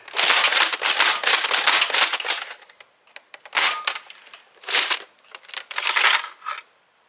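A Dart Zone Max Dictator foam dart blaster being slam fired, with rapid bursts of loud mechanical clacking and thumping shots in several strings separated by short pauses, close and without speech.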